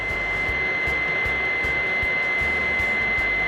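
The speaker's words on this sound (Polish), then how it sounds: "Wentylator włączył się na maksa. I to w czasie dopalania się maszynki po gotowaniu." A camping stove's cooling fan runs at full speed while the stove burns off after cooking, producing a steady, loud whirring blow with a constant high whine and faint rhythmic ticks underneath.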